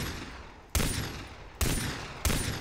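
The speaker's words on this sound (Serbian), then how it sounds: "po pucanju se već vidi da je starija igrica" Gunfire from an older video game: three loud, sharp shots at uneven intervals, each one cutting in abruptly and trailing into a noisy decay, with no talking.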